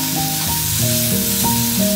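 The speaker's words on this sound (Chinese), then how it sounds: "用铁锅把新鲜的羊肉和蔬菜一起煎烤" Fresh lamb and vegetables sizzle loudly on a Hokkaido-style Genghis Khan iron pan, a continuous close hiss and crackle with no voices.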